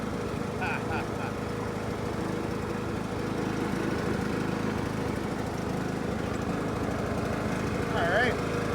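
A John Deere L100 riding lawn mower engine runs at a steady, even drone close by, with small bursts of talk and faint noises over the constant hum.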